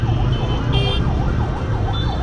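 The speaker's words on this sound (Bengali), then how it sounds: "পাশে একটা অ্যাম্বুলেন্স আছে, ওটার আওয়াজে আসলে থাকা যাবে না" Ambulance siren wailing in city traffic, its rising and falling sweeps repeating steadily over a continuous engine and road rumble, loud and close, with a brief high horn-like tone mixed in.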